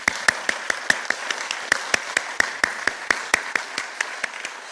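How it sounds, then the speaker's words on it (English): Round of applause at the UF Business Affiliates Scholarship Breakfast for students and donors: crisp, evenly spaced claps ring out in a steady rhythm, fairly close and prominent over a quiet room. "I'd like to give one more round of applause to all of our students and all of our donors"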